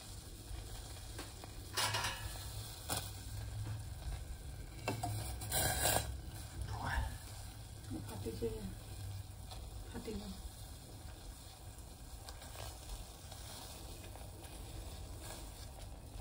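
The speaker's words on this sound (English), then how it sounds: "Now pouring milk on the ginger juice and boiling it." Milk being poured onto ginger juice and heated in a stainless steel bowl gives soft stirring and bubbling sizzle, with a few metallic clinks of utensils against the bowl.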